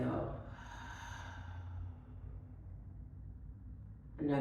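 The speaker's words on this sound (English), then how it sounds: "Go ahead and take a nice big deep inhale and exhale." One slow, deep breath, an audible exhale that fades out gradually, with a short new breath starting at the very end, in a quiet room during a guided meditation.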